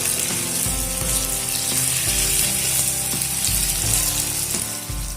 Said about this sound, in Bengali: আবারও সব কিছু একসঙ্গে খুব ভালো করে ভেজে নেব